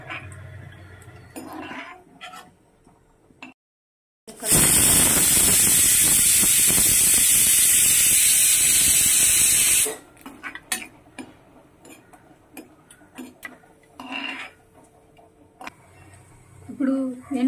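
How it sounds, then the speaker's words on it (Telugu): Raisins frying in ghee in a pan while making pappula payasam, a loud steady sizzling hiss that bursts in and runs for several seconds, with utensil clinks and a voice around it. "ఇప్పుడు కిస్మిస్ వేయించుకుంటున్నాం."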